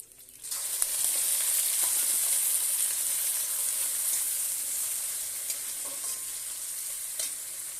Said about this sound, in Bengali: রসুন আর লঙ্কাটা ভাজা হয়ে গেছে এবার দিয়ে দেবো মাছের তেল